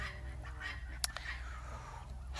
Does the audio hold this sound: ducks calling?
yes